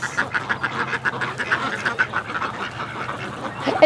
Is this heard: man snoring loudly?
no